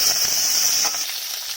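Curry leaves and fennel seeds crackle and sizzle in hot ghee as a tempering for tomato soup, a close, bright, steady frying hiss with no talking.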